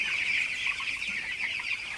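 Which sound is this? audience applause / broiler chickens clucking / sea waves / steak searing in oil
broiler chickens clucking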